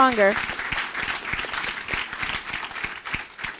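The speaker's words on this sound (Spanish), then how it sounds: "déle ese fuerte aplauso al Señor" Loud, dense applause from a church congregation fills the room, with cheering voices mixed into the clapping throughout.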